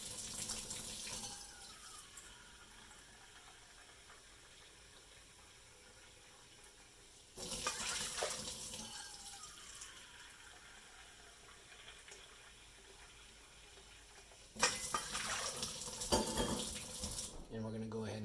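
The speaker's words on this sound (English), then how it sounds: "faucet hot water." Hot water runs from a kitchen faucet in three separate bursts, a close hissing splash that starts abruptly each time, with quieter room tone and low sounds between.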